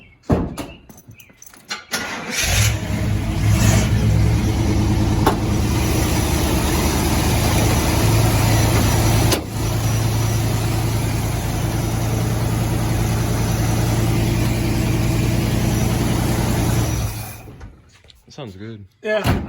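A 1980 International Scout fitted with an Edelbrock carburetor starts and runs at a steady, close idle for about fifteen seconds, with a few clicks and rattles at the start and finish.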